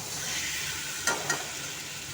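Fried potatoes stirred into spice masala in a pan for Punjabi aloo dum: a soft, steady sizzle with two quick scraping strokes of a spoon near the middle.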